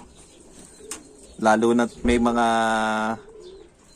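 Racing pigeons coo in a brief low warble at close range, with a longer sustained harmonic call following, and a person speaks briefly before the calls.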